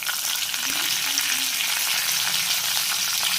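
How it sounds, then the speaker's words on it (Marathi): Curry leaves sizzle in hot oil with cumin seeds as a tempering for an eggplant curry, a steady, close, hissing fry throughout with faint crackles and no talking. "त्यासोबत मी कढीपत्ता,"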